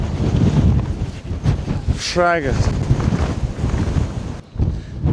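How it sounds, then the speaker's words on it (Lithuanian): Strong wind roars and buffets the microphone on a mountain summit in Madeira, a steady loud rumble throughout, with a person speaking briefly over it. "Vėjas tai belenkoks."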